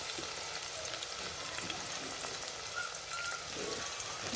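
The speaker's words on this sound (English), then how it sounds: "We are going to add in green pepper to our onion." Green pepper frying with onion in a pan for a village-style sweet potato and mung bean meal, giving a steady, close sizzling hiss throughout with faint stirring and no talking.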